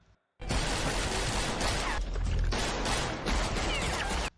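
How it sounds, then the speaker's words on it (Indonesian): A dense, loud burst of rapid gunfire and crashing noise that continues almost without pause after a brief silence. "Rupanya suara tembakan memancing polisi datang ke TKP"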